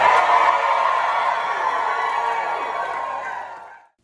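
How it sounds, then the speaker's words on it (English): At a high school graduation ceremony, a large crowd lets out a sustained roar of cheering and whooping that stays loud, then cuts off abruptly near the end. "Can we get a double clap?"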